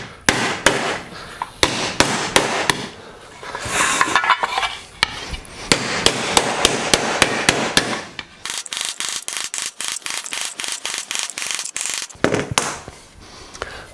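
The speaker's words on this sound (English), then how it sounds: "let's see how we go hammering these out." Heavy mallet hammering a sanded metal plate on a hardwood block while forming tucks for metal shaping, close and loud, with rapid bursts of sharp repeated blows separated by short pauses.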